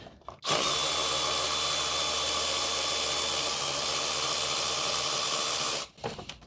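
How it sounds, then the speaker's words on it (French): A power tool whines continuously for about five seconds while loosening the starter motor bolts on a Renault Clio 4, starting and stopping abruptly, loud and close with no talking. "on peut dévisser les 2 vis que je vous ai montré. Ceux qui tiennent le démarreur"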